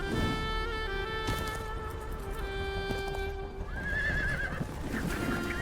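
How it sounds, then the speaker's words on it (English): Sturdy Altay horses bred by herders give loud whinnies over scattered hoof clatter, with a long high neigh rising near the end, set against steady outdoor background noise. "These are sturdy Altay horses."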